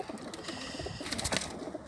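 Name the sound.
pigeons cooing inside a pigeon loft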